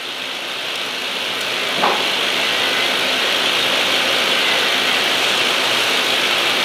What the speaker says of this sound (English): Of course, it's the variable speed on the carriage.